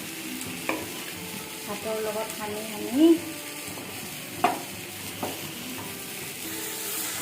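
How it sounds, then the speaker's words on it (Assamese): Leafy greens (saag) frying in a pan for a home-style Assamese meal, with a steady low sizzle, a few scraping stir sounds and utensil knocks, and a brief spoken phrase. "ইয়াতে মই এতিয়া শাকখিনি ভাজিম।"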